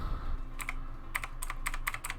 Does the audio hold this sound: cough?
no